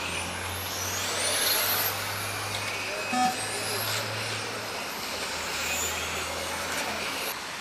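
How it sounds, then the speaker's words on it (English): Radio control model cars racing on an outdoor racetrack at West Vale, Greetland, Yorkshire, their high electric whines sweeping up and down as they pass, over a steady low hum and background chatter. "the Yorkshire Radio Control Model Car Racing Club have been holding regular races for over 20 years on this fabulous racetrack"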